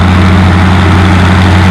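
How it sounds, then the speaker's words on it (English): A Minneapolis Moline GB diesel tractor idles at a tractor pull, a loud, steady low throb with a constant droning hum, close and unbroken. "we got a beautifully painted Minneapolis Moline GB diesel"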